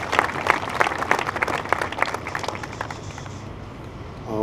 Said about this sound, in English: Can we have a round of applause for the Snyder people and the DOT?